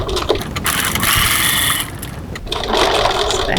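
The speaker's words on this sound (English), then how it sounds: "I'm going to stitch along the bottom of each of these two card slots, 3mm, 1/8 of an inch from the edge." A sewing machine stitches card slots on a fabric wallet in close, loud, rapid bursts, running in two stretches with a short pause between them.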